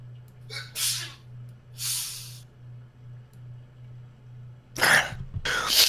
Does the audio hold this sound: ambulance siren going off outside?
no